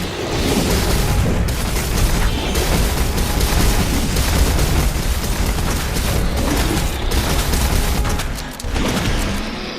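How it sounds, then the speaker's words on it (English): Shotgun blasts in the video game Resident Evil 2 Remake, dense booming bursts packed one after another amid loud continuous game action and rumble, with no voices. "go ahead and do the shotgun now"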